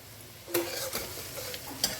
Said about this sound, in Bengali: এই পেঁয়াজ ভাজার সময় আমি এর মধ্যে হাফ চা চামচ হাফ টিস্পুন পরিমাণে একটু চিনি যোগ করব